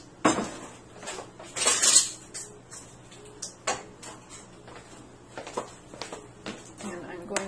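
Metal ladle clanking against a pot while sauce is spooned out for a vegetable lasagna, several sharp knocks and scrapes at irregular intervals, close and fairly loud, with a person talking between them.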